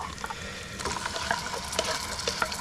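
Bacon, eggs, leftover beans and shrimp frying together in a pan at an ice fishing camp, a dense close crackling sizzle with scattered pops and light stirring scrapes throughout.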